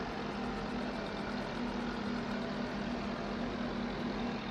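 Massey Ferguson 100 tractor in Farming Simulator 22 idles with a steady, even engine drone and a faint low hum, unchanging throughout and fairly quiet.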